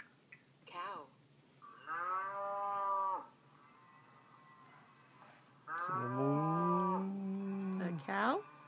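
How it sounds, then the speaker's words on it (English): Cow moos from a children's iPad farm app, two long drawn-out lowing calls separated by a quiet gap, with a short voice or squeak at the start and a brief sound at the end. "Cow."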